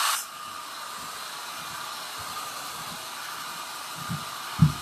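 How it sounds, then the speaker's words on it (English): Hair dryer on a cool setting blowing steadily while a floral arrangement is worked on: an even, airy hiss that holds for several seconds, fairly close, with a short click at the start and a faint knock near the end. "I'm going to use the hair dryer again, and it's just on a cool setting."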